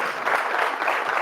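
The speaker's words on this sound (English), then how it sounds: "Give this man a round of applause." Dense crowd applause at a live awards show, a brief continuous burst of many hands clapping, fairly loud and close.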